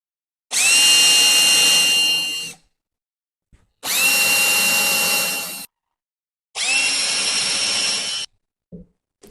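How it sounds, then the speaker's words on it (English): A power drill drills into wood in three sustained bursts of about two seconds each with brief pauses between, loud and close, its motor whine steady through each run. "Got the tape there so that I don't drill too far."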